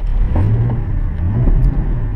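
A car that would crank but not start, running after fuel was sprayed into the throttle body, a steady close engine rumble and idle with slight surges, with no talk over it.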